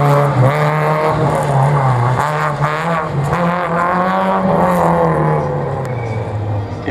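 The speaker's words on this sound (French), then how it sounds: "propulsée par un moteur de Clio RS 2 litres" A slalom race car powered by a 2-litre Clio RS engine screams past at high revs, the engine note rising and falling through gear changes with faint tire squeal, loud and close.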